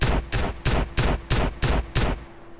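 Shotgun fire in GTA San Andreas, with six evenly spaced, loud, booming blasts about a third of a second apart, each followed by a brief tail, and no talking over them.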